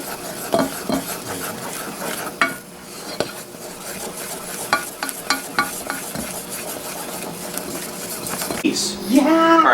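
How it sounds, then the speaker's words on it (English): Seasoning being stirred into a bubbling cheese sauce base for spicy mac and cheese, with repeated scraping and clinking of a utensil against the pan over a soft sizzle. "when it starts to bubble up like this, then when you put your seasoning in and stir it up real good."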